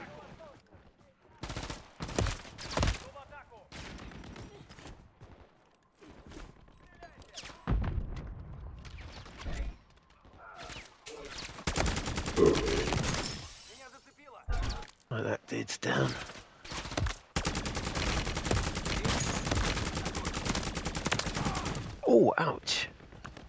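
Sentry turret gunfire in Call of Duty MWZ, long sustained bursts of rapid automatic fire with short gaps and heavier booms mixed in, loud and close, while players talk over the shooting.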